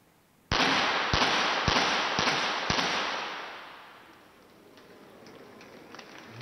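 Gunshots at an Olympic shooting competition: five sharp, evenly spaced cracks about half a second apart, each ringing into a long reverberant decay that fades into a quiet, hushed hall.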